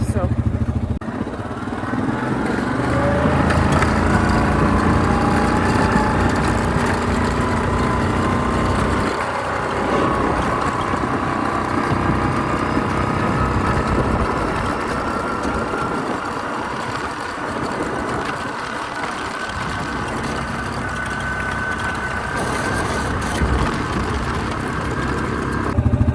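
A farm motorbike engine runs steadily for the whole stretch, a loud, close buzzing drone that dips and swells slightly, with a voice talking over it at times.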